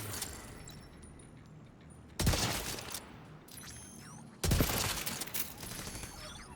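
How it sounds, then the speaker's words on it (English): A turret in a video game fires in two sharp bursts of rapid shots, each a loud clattering volley with a decaying tail, separated by quieter game ambience. "Go, turret, go!"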